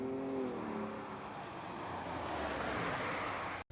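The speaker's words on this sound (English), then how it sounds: "here driving the Raptor with my cameraman, Justin." A 2020 Ford Raptor pickup truck driving, heard from inside as a steady broadband road and wind rush with a low engine hum, fairly loud throughout, ending in a brief dropout near the end; no speech.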